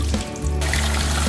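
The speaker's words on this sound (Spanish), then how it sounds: "así que lo voy a ir lavando aquí para sacarle el almidón del arroz" Rice being rinsed under running water in a sink to wash off the starch, a steady close splashing and trickling flow that briefly softens and then fills back in.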